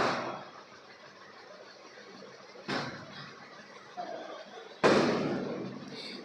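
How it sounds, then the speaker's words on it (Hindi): Firecrackers burst outside beyond a closed window, three sharp muffled bangs spaced a couple of seconds apart, each followed by a short fading rumble over a quiet room. "थोड़ा सा पटाखों का आवाज़ आ रही है पीछे"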